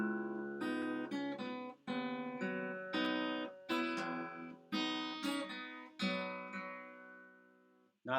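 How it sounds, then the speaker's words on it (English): An acoustic guitar plays the bass line of a song with the low note moved up an octave on the third string. Plucked notes and chords sound one after another in an uneven rhythm, close and fairly quiet, with no talking. "hitting the third string and just making it an octave higher"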